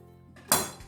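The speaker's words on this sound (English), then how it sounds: "So then we'll just sprinkle those right over the top." Smokehouse almonds sprinkled over a summer salad make a sudden rattling patter of small pieces landing, one brief loud burst after a quiet lead-in, close by.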